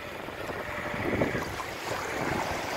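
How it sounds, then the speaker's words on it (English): A sailboat surges through large waves on Lake Superior in rough, challenging conditions, with a steady loud wash of water and wind rushing across the hull and microphone, swelling and easing without pause. "We're surfing these waves."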